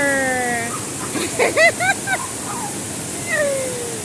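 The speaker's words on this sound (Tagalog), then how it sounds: "Dito naman sa Claveria waterfalls na napakaginaw na water" The cold Claveria waterfall in Misamis Oriental rushes with a constant broadband roar, while faint tonal voices or calls rise briefly above the water.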